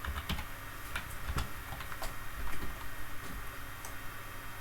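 A command being typed on a computer keyboard for a Raspberry Pi 4 terminal, quick irregular key clicks, quiet and close over a steady background hum.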